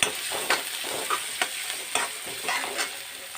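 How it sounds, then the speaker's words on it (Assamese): Ginger garlic paste frying in a pan for a cauliflower and egg dum, a continuous close sizzle broken by repeated scraping stirs at an uneven rhythm, no voices. "এইখিনি দি লৰাই দিম।"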